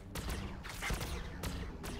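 Gunfire in Warhammer 40,000: Battlesector, a quiet, sparse volley of a few sharp shots spaced apart with a brief whooshing tone between them, heard at a modest distance.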